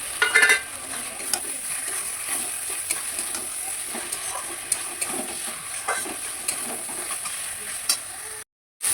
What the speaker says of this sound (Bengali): এবার এটাকে ভালো করে কষিয়ে নেব একটু।